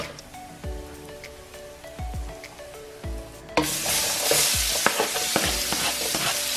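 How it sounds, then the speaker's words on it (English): Chopped onions with a cinnamon stick and spices drop into hot oil for a lamb curry and break into loud, dense sizzling, with a spoon stirring and scraping through the pan; quieter clinks of stirring come first. "once that starts to sizzle, I'm going to add in my chopped onions"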